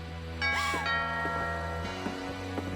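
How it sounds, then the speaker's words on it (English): In the video game What Remains of Edith Finch, a doorbell chimes in two clear ringing tones, the second lower and sustained, against a quiet, hushed game background. "Ding dong."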